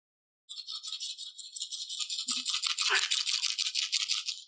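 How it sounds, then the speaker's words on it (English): A soft hand rattle topped with a piece of abalone shell and wrapped in horsehair, shaken close by in a steady, rapid, dry swish for about four seconds with no other sound. "Soft rattle."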